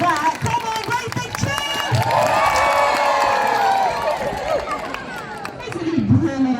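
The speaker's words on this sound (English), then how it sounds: "give him a great big cheer" Crowd at a seal show at West Midlands Safari Park cheers loudly on cue, a sustained burst of children's shouts and mixed voices swelling and holding for several seconds.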